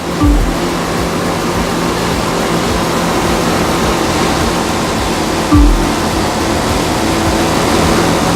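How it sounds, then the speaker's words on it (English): Waves in an offshore boat race in The Crew 2 video game, a steady roaring wash of water with heavy surf noise throughout and a couple of low thumping impacts as the boat slams through the swells. "you'll occasionally have to deal with 10-foot waves on offshore races"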